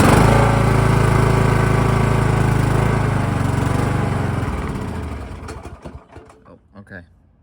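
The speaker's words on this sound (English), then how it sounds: "So I'm gonna start it now." A riding lawn mower's engine cranks and catches, running loud and rough with a heavy low rumble, then throttles down and sputters toward a quieter, uneven idle with a few clanks near the end.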